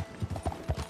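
A horse's hooves clop in quick, close beats in the video game Red Dead Redemption 2, a short burst of several rhythmic steps heard alone.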